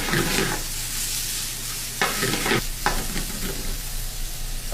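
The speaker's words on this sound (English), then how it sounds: "let's fry this up." Food fries in olive oil with a loud, steady sizzle in a frying pan, broken by a few bursts of stirring and scraping, close up and without voices.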